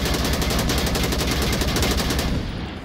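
Rapid automatic AK-12 rifle fire in the VR shooter ONWARD, a loud, dense burst of shots from close range that runs almost continuously before cutting off near the end.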